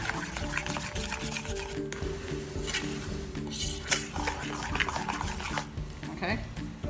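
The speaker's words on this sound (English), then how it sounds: "So just keep stirring, you guys." Spoon rubbing and scraping steadily through thick pink-red candy syrup in a pot for candy apples, a continuous rasping stir with light utensil clinks over a humming background.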